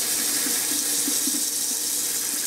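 A kitchen tap runs steadily into a pot, a constant close hiss of pouring water with a faint rising tone as the pot fills.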